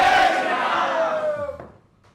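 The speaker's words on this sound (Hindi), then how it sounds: "एक बार फिर जोरदार तालियां धीरेन्द्र कृष्ण शास्त्री जी के लिए" Large crowd at a Dussehra stage event cheering and clapping for Baba Bageshwar Dhirendra Krishna Shastri, a loud, dense roar that swells briefly and then fades quickly to quiet.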